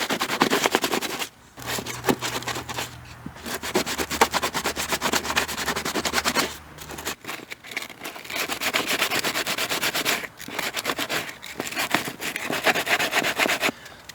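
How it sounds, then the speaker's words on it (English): Sandpaper rubbed by hand to strip old glue from a leaking pool, in repeated bursts of scratchy rasping with short pauses between strokes, close and fairly loud. "I don't know if it's sandpaper will take this off or not, but it's what come to mind firstly to use"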